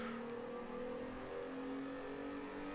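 Racing car engine held at full throttle down a straight in a racing video game, a steady sustained drone with a rising harmonic whine, loud and continuous without a break.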